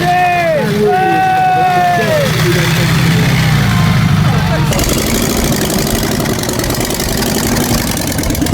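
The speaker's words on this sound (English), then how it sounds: "Two Sunbeam motors joined together." Two Sunbeam motors joined together run steadily at a farmyard party, a loud even engine drone underneath cheering, clapping and chatter from a crowd, with a sharper rattling tone taking over midway.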